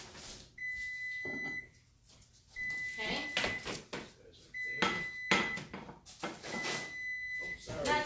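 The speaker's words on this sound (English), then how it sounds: "That's our lovely beeping oven that we have." A kitchen oven's timer beeps repeatedly, a few loud electronic tones spaced a couple of seconds apart, with clattering and someone briefly talking in between.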